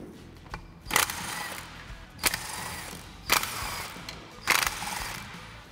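A ratchet works the four 13 mm bolts holding the fan clutch on a Ford F-150, with four separate bursts of clicking and metallic turning spaced about a second apart, close and moderately loud.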